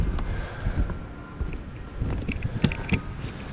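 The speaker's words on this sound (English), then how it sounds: "wind's blowing this way" Wind gusts across a rooftop beside a Carrier rooftop HVAC unit, a steady low rumbling buffet on the microphone with a few brief clicks and knocks near the end.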